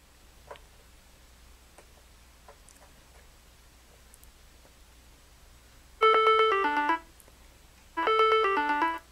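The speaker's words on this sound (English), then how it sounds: "You can ring your device." A silenced phone rings on command from a TrackR Bravo tracker button, giving two loud bursts of a bright, repeating electronic ringtone, each about a second long, after a stretch of quiet room tone with faint clicks.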